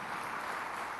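Church congregation applauding during a Sunday worship service, a steady wash of clapping heard from a distance at an even level throughout.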